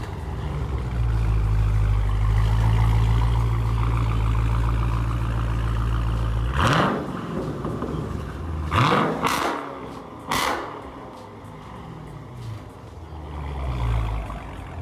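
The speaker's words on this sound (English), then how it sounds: "The Muffler Delete sounds fantastic on almost every trim." A Dodge Charger or Challenger V8 with a muffler delete idles with a deep, loud rumble, then fires several sharp revs that bark and fade before settling back to a low burble.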